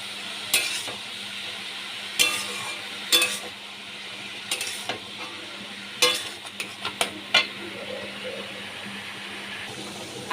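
Two green chillies go into a hot pan for a vegetarian bottle gourd curry, lau ghonto. There is steady sizzling, with scattered scrapes and taps of a spoon stirring against the pan.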